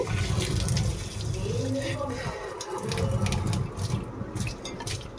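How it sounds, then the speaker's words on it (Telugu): Hot water pours steadily into a sink, a continuous rushing splash with occasional clinks of dishes, while a voice speaks intermittently. "వేడి వేడి నీళ్ళు సింకులో పోయండి"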